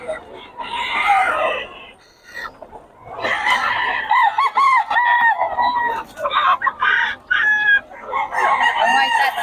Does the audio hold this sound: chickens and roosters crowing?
yes